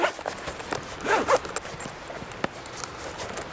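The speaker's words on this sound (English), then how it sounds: "That just zips up and keeps everything safe." Zipper closing on a carrying case for DSOON night vision binoculars, a couple of quick close rasping pulls followed by light handling noises.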